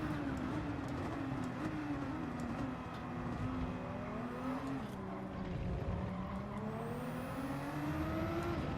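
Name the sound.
race cars racing in Gran Turismo 7 video game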